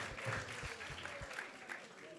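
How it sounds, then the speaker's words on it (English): Audience applause at a Krishna Katha gathering, a modest crowd clapping briefly and fairly faintly, with a voice speaking over the clapping. "let's give him a big round of applause"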